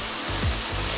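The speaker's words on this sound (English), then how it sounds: "If you don't hear that searing," Flank steak hitting a smoking, oiled pan, a loud continuous hiss of searing that fills the whole short moment, close up.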